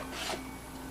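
A headset rattles and rubs inside a Samson C01U Pro USB microphone box, a brief faint scraping shuffle heard close up with no talking.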